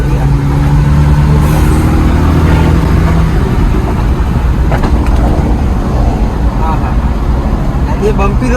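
A modified Mahindra Thar petrol with a loud aftermarket exhaust drives over a bumpy road, its engine droning loud and steady from up close with a rough low growl, while people talk over it.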